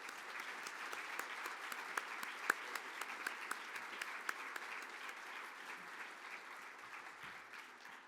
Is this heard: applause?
yes